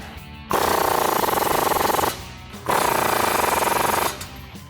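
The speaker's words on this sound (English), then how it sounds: "Now we're gonna grab our 24mm socket, tighten down our two nuts." Two bursts of rapid, rattling impact-wrench hammering as two nuts are driven tight with a 24mm socket on the steering and suspension of a 1994-2004 Mustang, each burst about one and a half seconds with a short pause between.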